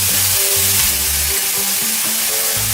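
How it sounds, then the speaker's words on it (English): Garlic and onions sizzle loudly in a frying pot, a steady crackle with low tonal hum underneath, no voices. "in that same pot where you used to fry up your all the good stuff, you're going to add 1 tablespoon of garlic again. Then you're going to add your onions to it."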